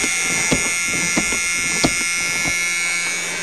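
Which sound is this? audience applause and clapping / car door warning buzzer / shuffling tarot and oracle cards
car door warning buzzer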